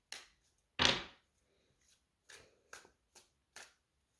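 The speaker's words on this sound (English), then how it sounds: "My method is just to shuffle till it feels like it's time to stop." Tarot cards being shuffled by hand: one loud riffle burst followed by several short, quieter card snaps and slides at an uneven rhythm, close up with no talking.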